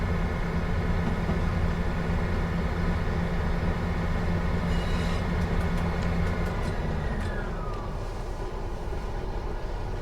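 A Class 158 diesel train on the Midland Main Line in Train Sim World 3 rumbles steadily as it picks up speed, with a continuous engine drone and faint high whines.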